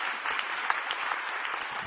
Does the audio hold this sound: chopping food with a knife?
no